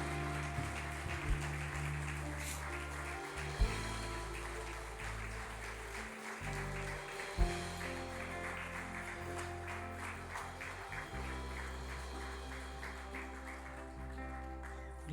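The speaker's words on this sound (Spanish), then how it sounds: "denle un fuerte aplauso a Él, de alabanza y de adoración a Él." A church congregation applauds in praise, a fairly faint, sustained patter of clapping that carries on across the whole stretch, with a few louder claps standing out.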